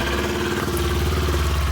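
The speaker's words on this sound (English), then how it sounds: "start the bike and watch the exhaust pipe" A used motorcycle with a stock exhaust idles steadily and close by, its mellow, evenly pulsing engine note thrumming with a slight mechanical clatter and no voices over it.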